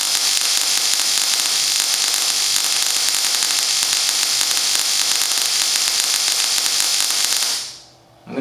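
Coil-on-plug ignition coil firing rapidly at a simulated 6,000 RPM, a dense, steady buzzing hiss that holds loud and even for about seven seconds before cutting off abruptly near the end.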